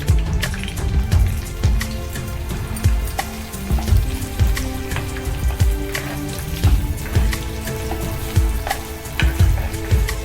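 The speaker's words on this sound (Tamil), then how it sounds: "வெங்காயம் நல்லா வதங்கிருச்சு." Steady sizzling and crackling of onions frying in a pan for chicken chinthamani, with soft scraping stirs recurring throughout.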